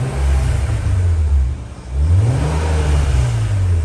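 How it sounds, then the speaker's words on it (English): A warm BMW Z3 2.8i roadster engine revs up twice nearby, rising to a roar, dropping back to idle between, then climbing again and holding a higher hum. "I will just give that a nice little rev whilst the engine is now nice and warm."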